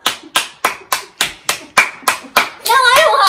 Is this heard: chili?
no